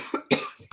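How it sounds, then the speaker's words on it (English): A few short, harsh coughs in quick succession, close to the microphone, with no talking around them. "It's not a dry cough."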